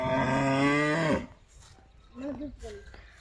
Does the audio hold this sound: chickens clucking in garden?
no